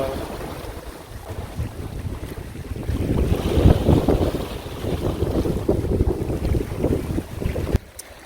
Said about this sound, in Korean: 바람도 많이 불고